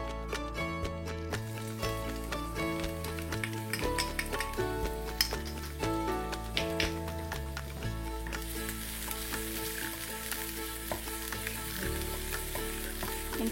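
Onions stir-frying in hot oil for Kolkata-style egg fried rice, a steady close sizzle with light clinks and scrapes of a utensil against the pan throughout, no talking.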